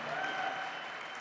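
Audience applause during a Bitcoin 2025 fireside chat, a brief dense wash of clapping from a large crowd, steady and then fading slightly.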